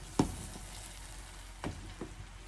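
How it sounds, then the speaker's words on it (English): Vegetables being stirred into Nigerian fried rice frying in a pan, a soft continuous sizzle broken by a few sharp scraping knocks of the spoon, quiet and close. "So I'm adding and I'm stirring at the same time."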